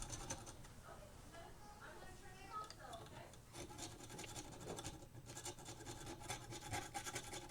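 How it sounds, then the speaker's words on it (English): A tool scrapes residue off a CRT part, producing a steady close rasping and rubbing that continues throughout the clip with a few harsher scratchy strokes. "Just going to scrape some stuff off here."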